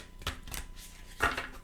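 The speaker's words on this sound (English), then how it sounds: "I'll shuffle them a couple more times." Affirmation cards being shuffled by hand, a few crisp riffling bursts with brief pauses between, close and fairly quiet with no talking.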